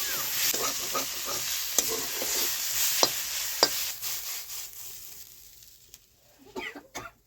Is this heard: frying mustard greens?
yes